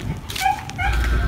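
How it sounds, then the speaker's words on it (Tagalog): Several dogs bark and yip at a shih tzu out on a morning walk, a few short, mid-distance barks breaking up a steady background. "Ayun na, tinatahulan siya ng mga aso."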